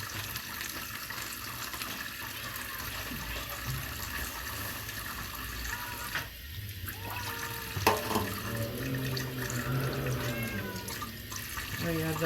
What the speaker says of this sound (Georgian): ბოდიში წყლის ხმარო იყო.